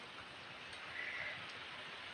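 Steady rain falling on wet ground outdoors during the monsoon, a dense, even hiss of many drops with no talk, moderately loud and continuous throughout.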